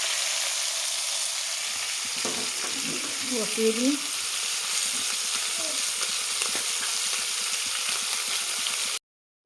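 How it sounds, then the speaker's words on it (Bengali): Fish frying in oil in a wok gives a constant bright hiss that fills the clip, while a voice speaks briefly in the middle, and the sizzle cuts off abruptly near the end. "মাছগুলো আমার ভাজা হয়ে গেছে"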